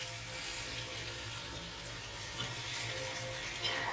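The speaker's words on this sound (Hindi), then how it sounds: "ये हरा लहसुन हो गया, हल्का हल्का फ्राई होने लग गया" Green garlic frying lightly in a pan gives a steady, close sizzle with a soft crackle running the whole time and no voices over it.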